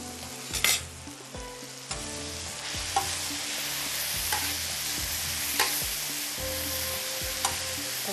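Green chillies and black peppercorns stir-frying in a tikka gravy on a tawa, a loud continuous sizzle broken by regular clanking strokes of a spatula, with no talking.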